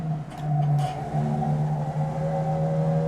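Formula Vee race car engine on a qualifying lap, a steady close-up drone of layered harmonic hum whose pitch wavers slightly and shifts as it carries on throughout, with no talking.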